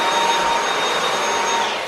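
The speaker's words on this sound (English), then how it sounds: "Quick little dust of the walls. You and your Hoover." A Hoover vacuum cleaner runs continuously while dusting walls during house prep, a steady, loud whooshing hum with a faint whine and no breaks.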